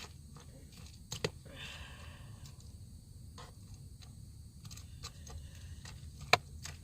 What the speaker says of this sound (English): Crunching up my cereal a little bit here.